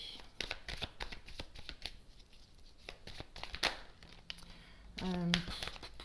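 Tarot cards shuffled and drawn by hand, with quick papery riffles and flicks close up, some soft slides and taps, and a brief sharper burst near the end, with someone speaking quietly at times.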